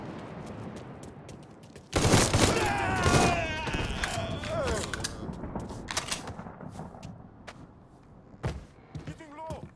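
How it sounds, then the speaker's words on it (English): A loud burst of gunfire in Mafia III breaks in suddenly and then carries on as scattered shots and thumps that fade and pick up again. Shouting voices are heard over the shooting. "Shoot him from this side!"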